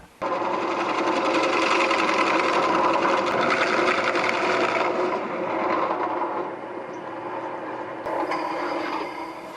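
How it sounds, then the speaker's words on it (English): A drill cuts a ring into wood while building a bird feeder. It gives a steady, close, loud whirring grind that eases slightly toward the end. "This drill has to stay inside the cut mark."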